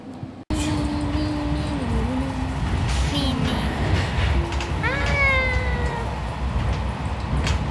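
A train ride with a constant loud rumble of the carriage, plus tonal squeals and whines that rise and fall, likely wheel or brake noise, and people talking over it.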